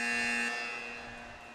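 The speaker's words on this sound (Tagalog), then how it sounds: "So we heard the final buzzer" A single loud, sustained electronic buzzer blares, then slowly fades away, with no talking: the final buzzer at a 3x3 women's basketball game.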